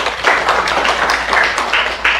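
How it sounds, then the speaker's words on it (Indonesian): A group in a classroom introduction session claps for two students, Fuad and Faren: brief, fairly close, uneven applause with overlapping hand claps rising and falling over about two seconds. "Beri tepuk tangan untuk Fuad dan Faren"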